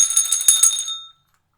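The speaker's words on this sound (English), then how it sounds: "Suddenly, the doorbell is heard." A bright metallic bell rings in rapid repeated strikes and then decays into silence, close and clear with no voices.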